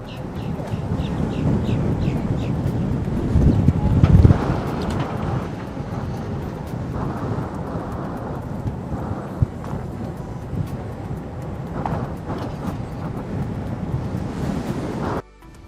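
Wind roars steadily into the microphone while riding an electric unicycle into a headwind, a continuous gusty rumble with no voices.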